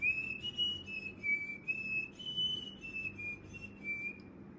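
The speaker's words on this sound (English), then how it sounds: "I can whistle a little bit." A person whistles a wavering, breathy tune of sustained notes, fairly close and quiet, alone with no talking.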